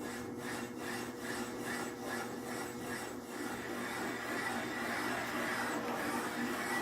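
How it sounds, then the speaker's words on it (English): A valve seat cutter carves a profile into a hardened engine valve seat, giving a steady, close scraping and rasping with faint rhythmic pulses that grow a little louder toward the end, with no talk. "Now we're cutting our profile into the hardened seat."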